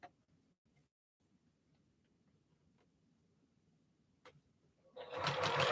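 A sewing machine with a walking foot stitches quilt blocks, ticking faintly at first and then breaking into a louder, busy running burst near the end.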